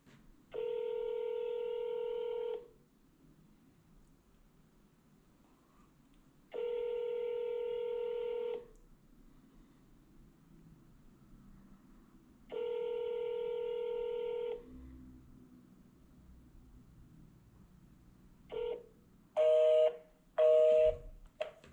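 A phone call is placed: three long ringback tones, each about two seconds with pauses between, then a short burst of dialing beeps at the end, over a quiet room hum.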